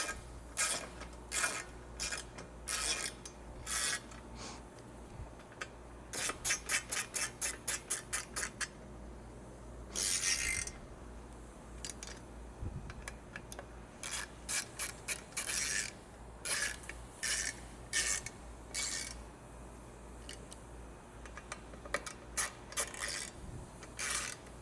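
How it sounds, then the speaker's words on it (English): A 5mm Allen wrench or socket tightening bolts during a Norden 901 installation, faint close clicks and ratcheting bursts in quick runs, separated by short pauses. "Finish tightening them down with a 5mm Allen wrench or socket."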